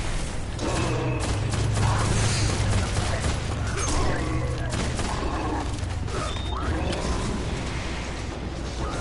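Dense gunfire and explosive thuds from a Destiny Nightfall mission, with a grenade blast in the mix, loud and continuous with a low rumble under the shooting.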